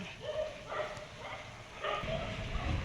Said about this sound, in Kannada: ಚಲೋ ಯಾಕೋ ನಾಯಿಗಳು ಜಾಸ್ತಿ ಬಗಳತ್ತ